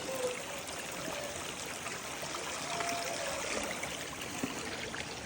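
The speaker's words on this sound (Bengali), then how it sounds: "আসল ঝর্ণা" A forest stream and waterfall pour and trickle in a continuous, even hiss of running water, nearby and alone with no talk.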